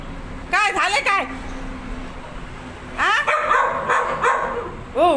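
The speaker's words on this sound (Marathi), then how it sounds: "आता ही आहे बहिणीच्या घरी एक डॉगी आहे आणि हिचं नाव आहे किट्टी." A pet dog at a house in a village gives a few sharp barks in two bursts, close and loud, while people talk around it.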